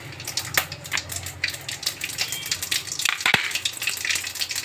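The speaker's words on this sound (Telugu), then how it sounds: "దీంట్లో కొద్దిగా పోపుకు ఆవాలు," Mustard seeds and a dry red chilli hit hot oil in a pan, setting off a close, crackling sizzle with irregular pops and spits and one sharp burst near the end.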